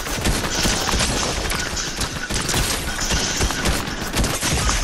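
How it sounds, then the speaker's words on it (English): Rapid bursts of gunfire in the video game Fortnite, dense and loud, with repeated shots and mechanical clatter running through the whole stretch. "Oh man, I shot him hella times."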